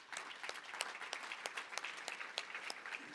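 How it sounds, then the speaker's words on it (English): An audience at a nonprofit breakfast event gives a round of applause, a steady patter of many hands clapping, heard at moderate volume with no speech over it. "So let's give them a round of applause."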